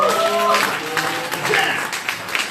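An audience at a magic night in Atlanta gives a short round of applause after a rope-and-ring illusion. The clapping is moderately loud and close, mixed with crowd murmur and a voice talking over it.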